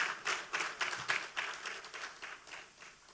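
Audience at a credit union league gala at Sandals Grande in St. Lucia claps in scattered, uneven bursts, moderately loud and fairly close, with no voices over it.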